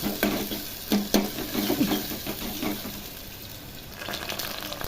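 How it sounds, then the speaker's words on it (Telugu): Onions frying in a pan with ginger garlic paste and turmeric for an eggplant and potato curry, a steady close sizzle with occasional stirring scrapes, no talking. "అల్లం వెల్లుల్లి పేస్ట్ అండ్ పసుపు వేసుకొని ఇలా కొంచెం బ్రౌనిష్ కలర్ వచ్చేసి ఫ్రై చేయాలి"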